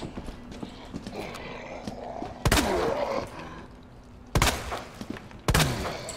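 Three sharp gunshots ring out in Resident Evil 2 Remake, widely spaced and loud against quieter game ambience with scattered clicks and thumps.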